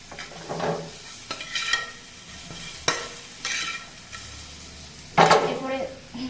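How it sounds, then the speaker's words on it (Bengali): Salted food in a pan is stirred with a utensil that scrapes and knocks against the metal in irregular bursts over a low sizzle, heard up close with no one speaking. "তো এরপরে আমি একটু নুন দিয়ে দেবো। তারপরে হালকা নেড়ে"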